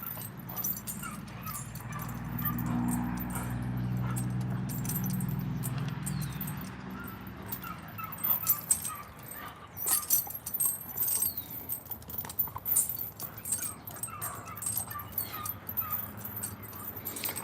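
A female Jeep Red Boy Rascal dog whimpering and giving faint yips, with rustling and jingling, metal-like clinks under a low drone, fairly close.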